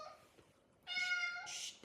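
A cat gives two short meows close by, faint and alone over a quiet room.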